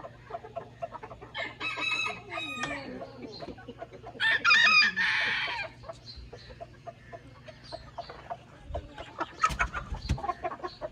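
Aseel roosters crow loudly in two long bursts amid repeated clucking and squawks, with scattered rustling and knocks in between.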